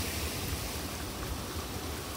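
Creek water runs strongly after rain, a steady broadband rushing roar that stays constant and close with no breaks.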